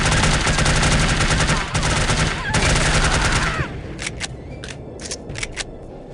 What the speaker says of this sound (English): The SMG is really loud.